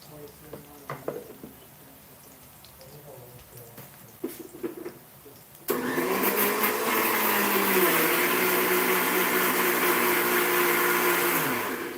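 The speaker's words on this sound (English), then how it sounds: "grind it to make a paste while our onions are frying" An electric grinder blends chopped tomatoes into paste for a paneer butter masala. It starts abruptly after a few quiet seconds of kitchen sounds and then whirs loudly and steadily, with a sustained motor drone that dips slightly in pitch near the end.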